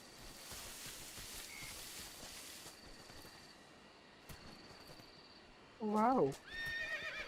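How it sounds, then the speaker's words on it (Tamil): A horse in the video game Metal Gear Solid Delta lets out a single loud, close whinny near the end, rising clearly above a steady hum of game ambience. "குதிரை சவுண்ட் கேக்குதுடா."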